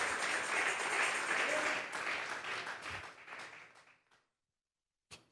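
Applause from a church congregation, a full, crowded patter of clapping that thins and fades out after about four seconds, followed by a short silence and one brief final burst.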